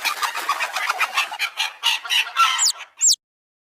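A mother hen gives quick repeated clucks close up, loud and fast for about three seconds, with a couple of high chick peeps near the end before it stops abruptly.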